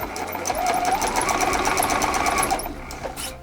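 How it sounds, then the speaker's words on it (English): A sewing machine runs continuously, stitching fabric scraps for a small tote bag, a close, steady buzzing whir with rapid needle clatter that slows slightly near the end. "I'm just going to be sewing from corner to corner"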